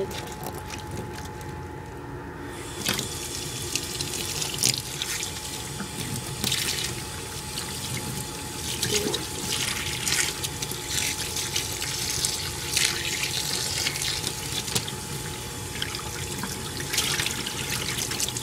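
Tap water runs steadily into a bath for rinsing, a continuous close splashing wash with small trickles and drips over it.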